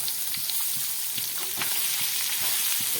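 Masala-coated pabda fish fry in a pan with a steady, broad sizzle. Soft utensil taps and stirring knocks land at a fairly regular pace throughout.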